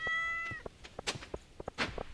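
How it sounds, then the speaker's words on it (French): Stardew Valley game cat giving a short rising meow at the start, followed by a string of light thumps and clicks from the game. "Miaou."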